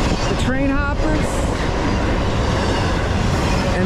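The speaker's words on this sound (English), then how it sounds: "That's a long train today." A long freight train rolls past at close range, a loud, unbroken rumble and rattle of wheels and cars that fills the whole stretch.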